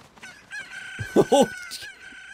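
A chicken in a Zelda video game clucks and squawks in a short burst of game audio, with a few loud, close calls near the middle over a faint electronic backdrop.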